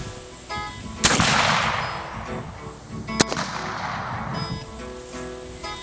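Two loud, sharp gunshots from a Cabela's .58 caliber Hawken muzzleloading rifle firing a patched round ball, each followed by a long rumbling boom outdoors, the second about two seconds after the first.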